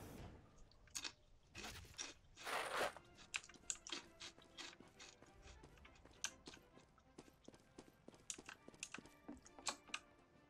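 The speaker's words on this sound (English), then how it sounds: "I got the munchy crunchies right now. I'm eating veggie straws." Veggie straws crunched close to the mic, with irregular sharp crunches and chewing, a loud burst early on and then quicker, lighter snaps and bites continuing throughout.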